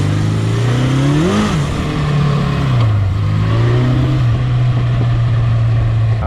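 A 1970s superbike motorcycle rides past with a loud, steady engine drone whose pitch rises and falls as the throttle changes, filling the whole stretch without talk.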